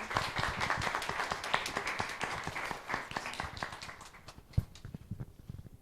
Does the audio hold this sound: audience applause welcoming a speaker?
yes